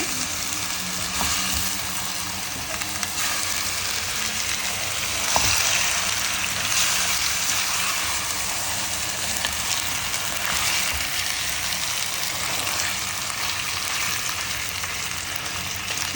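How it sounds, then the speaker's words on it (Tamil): Mutton rib bones sizzle and fry in masala in a pan, a continuous close crackle and hiss with occasional scrapes of stirring over a long, even stretch. "எலும்பை போட்டு நம்ம கிண்டி எடுத்துக்கலாம் மசாலாவோட"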